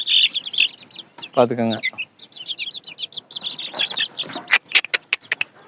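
A 45-day-old chicken chick chirps in a cage, with a run of high repeated peeps, one louder clucking call and sharper calls near the end, while someone speaks briefly.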